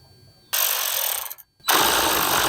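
A powered screwdriver with a T15 star bit spins out screws from a car headlight, giving two loud, close buzzing bursts separated by a brief pause.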